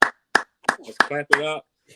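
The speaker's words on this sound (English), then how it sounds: "Let's clap it up." Five sharp hand claps at a steady pace, each one followed by a short burst of speech.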